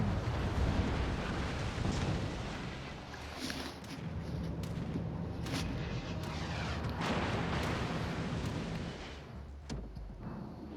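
Naval battle explosions in the World of Warships Legends video game sound as fairly faint, rumbling booms and thuds, with several sharper cracks punctuating a continuous low roar.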